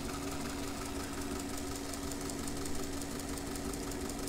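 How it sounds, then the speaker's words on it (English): A homemade electric knife sharpener driven by a salvaged treadmill motor runs alone at a steady, fairly quiet hum with a faint rhythmic knocking vibration throughout. "The motor came out of a treadmill that I had picked up on the side of the road."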